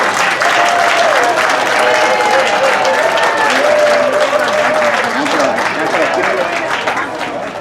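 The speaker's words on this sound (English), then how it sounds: "Let's give them a huge round of applause" Sustained crowd applause and some cheering at a Philippine Weekend celebration honoring the grand marshals, loud and continuous, with voices mixed in and a slight fade near the end.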